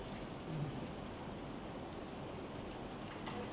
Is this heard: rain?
yes